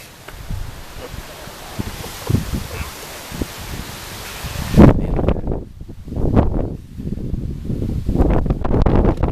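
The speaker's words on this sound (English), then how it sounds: "Wind picks up here." Gusty wind buffets the microphone at an outdoor women's baseball game, a loud continuous rushing roar that drops away midway and then returns in a few strong surges.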